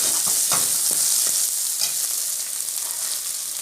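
Beans hit a pan of sautéed onions while cooking pasta at home, giving a loud close sizzle with several quick spoon scrapes and stirring knocks early on that ease into a steady frying hiss.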